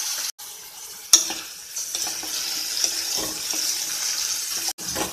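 Finely chopped tomato and onion cook in a pan, giving a steady moderate sizzle with stirring scrapes and a few sharp clanks of a spoon against the pan.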